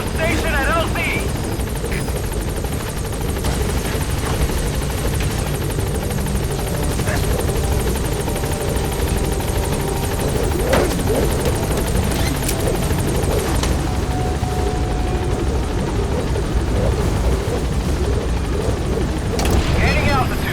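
The Pequod helicopter from Metal Gear Solid V: The Phantom Pain arrives at a landing zone, its rotor a steady, loud, dense drone that runs throughout while voices talk over it.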